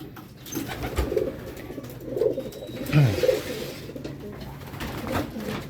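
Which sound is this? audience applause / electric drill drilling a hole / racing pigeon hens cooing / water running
racing pigeon hens cooing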